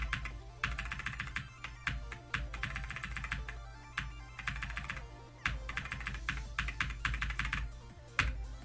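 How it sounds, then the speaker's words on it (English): Rapid computer keyboard clicking during gameplay, bursts of dense key taps in quick rhythmic runs separated by short pauses, close and clear with no talk. "What if I play with this keyboard?"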